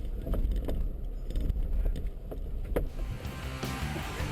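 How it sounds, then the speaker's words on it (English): A narrow Suzuki Jimny off-road vehicle at an off-road driving challenge edges steadily down a slope, with a low continuous engine rumble, occasional knocks and rattles, and wind noise. It is heard from a middle distance. "The narrow Suzuki makes its steady way down the slope"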